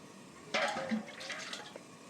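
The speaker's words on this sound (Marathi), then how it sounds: "आता आपण या ताटावरती पाणी टाकायचं आहे" Water poured from a glass onto a steel plate set as a lid over a pan of chicken makes a brief splashing, trickling pour that starts suddenly and fades within about a second and a half, near and fairly quiet.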